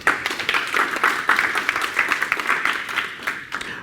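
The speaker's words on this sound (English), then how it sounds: "A little round of applause, please." Audience round of applause at a talk on overcoming stage fright, a small crowd clapping steadily with distinct individual claps, sustained and even throughout.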